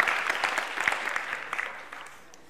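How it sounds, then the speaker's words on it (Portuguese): Church congregation clapping together, a full, sustained wash of many hands that gradually fades toward the end. "Aplauda o nome do Senhor e pode se assentar."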